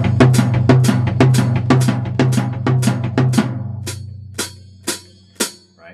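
A drum kit plays a triplet pattern moving between floor tom and bass drum, a steady run of punchy, resonant hits that thins into a few spaced strikes at the end, with no voices.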